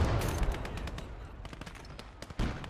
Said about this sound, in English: Where's that MG fire coming from?